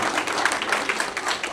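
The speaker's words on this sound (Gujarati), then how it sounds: "બધા આપણે તાળીઓ પાડીએ" A crowd at a Guru Purnima celebration in Adelaide applauds, producing a dense, steady wash of clapping that is loud and close throughout the short burst.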